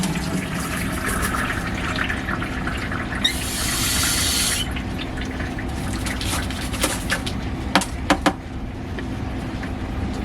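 Water rinses ceramic tumbling media in a bowl after a rock-tumbling run, a steady splashing wash that stays level throughout with a hissing surge midway and a few sharp clinks near the end.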